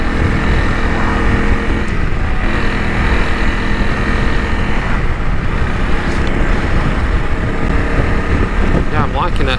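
Loud engine drone while riding a Honda CRF 300 Rally motorcycle, heavy wind rush buffeting the microphone and the motor's pitch shifting slightly as speed changes.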